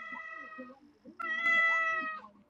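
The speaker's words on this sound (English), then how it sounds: "One single meow, please." A cat gives two distinct meows close by, the second longer and louder and pitched upward, with quiet human voices murmuring in between.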